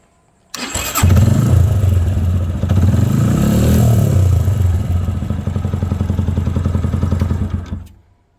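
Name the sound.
motorcycle engine started with electric self-starter on lithium battery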